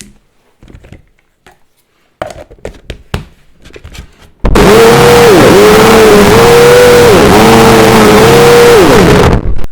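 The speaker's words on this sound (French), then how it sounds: "Et on rentre notre mixeur, et c'est parti." A few soft knocks and clatters, then a loud blender roars to life and runs continuously, its motor pitch dipping and rising in cycles.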